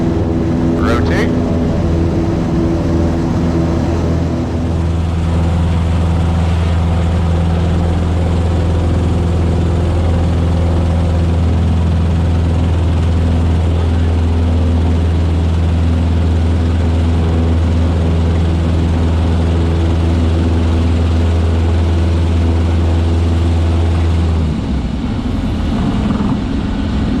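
A small propeller airplane's engine drones at a loud, steady, low pitch during a takeoff roll, close and constant for most of the stretch, then drops off near the end. Radio-style speech is faintly mixed in.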